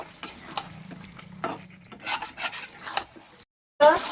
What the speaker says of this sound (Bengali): তো দেখুন এইভাবে এবার আমি কষাতে লাগবো, সুন্দর করে আরও কষাবো।